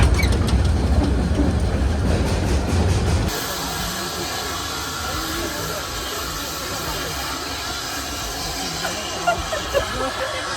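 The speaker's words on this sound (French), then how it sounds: "la locomotive va faire un demi-tour sur les rails qui sont un peu plus longs" A locomotive rolling along rails as it turns around, with a loud hissing roar that abruptly drops to a softer steady rumble with faint clicks, heard at moderate distance.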